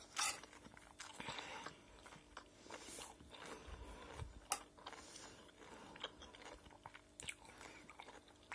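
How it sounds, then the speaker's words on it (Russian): Close, faint crunching and chewing of cabbage rolls, irregular soft bites and crisp crackles scattered through a quiet room with no talking. "Как голубцы хрустят, слышите?"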